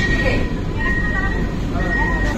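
An AC local train on the Sealdah to Ranaghat line in West Bengal gives a steady onboard rumble with a faint high tone running through it, while people talk throughout.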